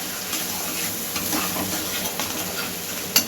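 Spices such as cumin and coriander powder are stirred in a frying pan, giving a continuous soft sizzle with faint scraping strokes and a small clink near the end.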